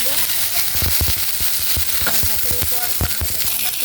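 Food frying hard in hot oil for a Bengali breakfast, a steady loud sizzle broken by sharp crackles and pops, with no voices.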